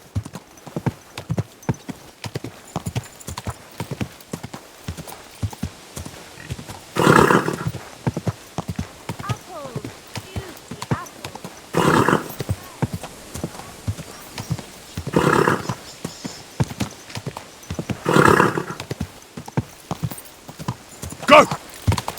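A horse in the video game Kingdom Come Deliverance 2 gallops with steady rapid hoofbeats close by, broken by several loud whinnies and snorts, while someone speaks briefly over it.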